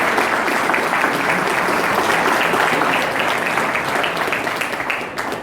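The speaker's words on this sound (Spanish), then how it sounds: "Yo pido en primer lugar un fuerte aplauso para quienes acompañan a los Rotarios." An audience claps loudly and continuously in honour of the companions of Rotary Club members at an anniversary event in Asunción, a dense, sustained wash of applause that holds steady and then starts to thin at the end.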